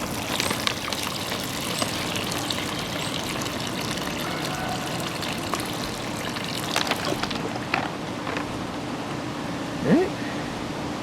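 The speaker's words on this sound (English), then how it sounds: "we're going to give it some good amount of water." Water pours and trickles onto a plant's soil in a steady, soft stream in a garden outdoors, with faint background hum and a brief chirp near the end.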